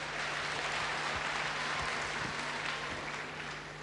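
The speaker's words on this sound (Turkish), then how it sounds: "Öğrencilerden daha güçlü bir alkış geliyor." A crowd of students claps steadily and loudly at a youth festival, a dense sustained applause that tapers slightly toward the end.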